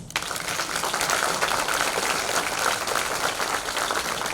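Dense, steady applause from an audience welcoming a guest at a folk song and tamburica evening, filling the whole stretch at moderate loudness without any voices.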